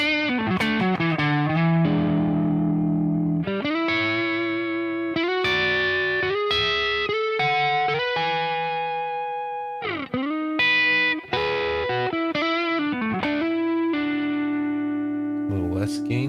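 Electric guitar played through a Spark amp with an Ibanez Tubescreamer pedal for overdrive, sustained distorted notes and chords ringing out in a steady phrase, close and clear with no talking.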